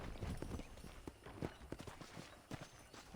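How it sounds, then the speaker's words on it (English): Horse hooves clip-clop on a ranch in the video game Red Dead Redemption, a steady walking rhythm of soft thuds over a busy background of game ambience. "I picked out a fine horse for you."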